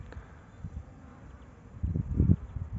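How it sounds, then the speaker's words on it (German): Honeybees flying at a beehive in early spring give a low, steady hum, with louder buzzing swelling near the end as bees pass close by. "Wir haben wieder Bienenflug,"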